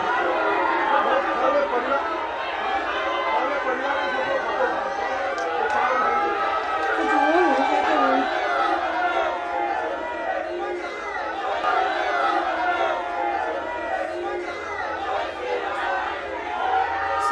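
Dense crowd chatter and scattered shouts from a large gathering of people pressing around Prime Minister Modi at a roadside tea stall, a steady, loud babble of many voices with occasional cheering throughout.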